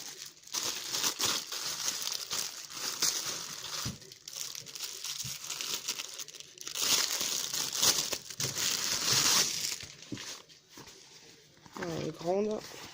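Plastic packaging around a cheap toiletry bag crinkles and tears as it is opened close by, in busy irregular rustles while a person talks over it.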